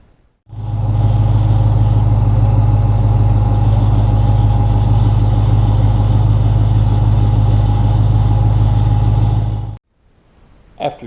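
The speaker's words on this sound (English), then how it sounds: "start the vehicle's engine and let run for around 2 minutes" A car engine idles steadily during a cooling system combustion leak test, a loud, even low rumble running for about nine seconds before cutting off abruptly, followed by a faint brief rustle.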